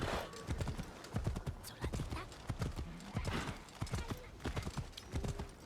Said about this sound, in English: Let's call my aqua horse and get a ride.